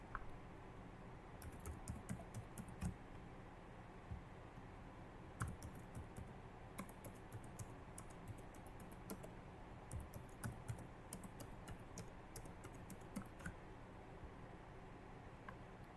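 A username typed on a computer keyboard in quiet bursts of rapid clicking key taps, separated by pauses, close but faint.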